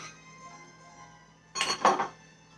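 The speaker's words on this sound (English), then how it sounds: "Take the fork, mix it together." A fork mixes ricotta cheese and parsley in a bowl for lasagna, making two short bursts of clinking and scraping against the bowl after a quiet start.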